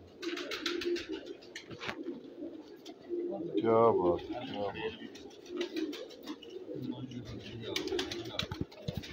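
Pigeons in a loft give soft, repeated throaty coos and some chirps, close by, with someone talking over them.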